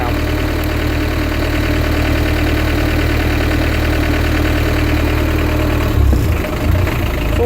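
A car engine runs in fourth gear overdrive with a loud, constant low drone and rough, noisy whine, close up and steady, shifting briefly in pitch near the end.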